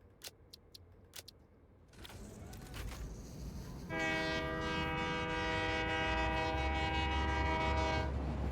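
Train in the Satisfactory factory-building game: a rumbling run-up, then a sustained horn-like harmonic tone that holds loud for several seconds over steady rolling noise, with no talking.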